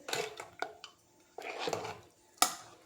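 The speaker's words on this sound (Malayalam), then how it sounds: "നല്ലതുപോലെ ഇളക്കി ഉപ്പും കൂടി ചേർക്കണം." Rice porridge (kanji) stirred in a pot with a spoon as salt goes in, giving several short scraping and clinking strokes separated by brief pauses.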